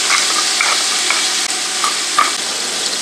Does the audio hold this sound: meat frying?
yes